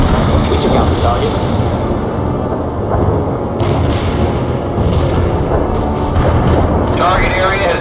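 A heavy artillery barrage in World in Conflict thunders with continuous, loud overlapping explosions and rumbling impacts, while radio-style voices talk over the bombardment.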